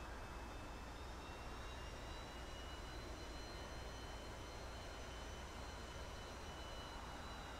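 T-45C jet idling and taxiing slowly on an aircraft carrier deck in a flight simulator, a steady faint engine whine and broadband roar with thin tonal hums, constant and uninterrupted.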